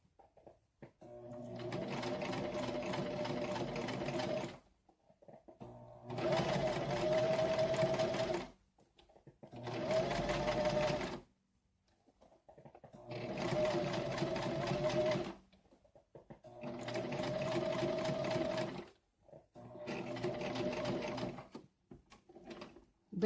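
Sewing machine stitching a patch onto work pants, running in six steady bursts of several seconds each, separated by short pauses, close and alone.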